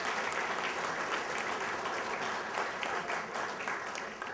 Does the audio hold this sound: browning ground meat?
no